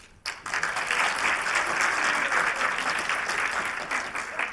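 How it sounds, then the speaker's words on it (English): An audience at a Somali-Canadian cultural night breaks into dense, steady applause that starts abruptly and holds at full strength throughout, a close, lively crowd clapping. "first a round of applause, please, for the girls who set this up"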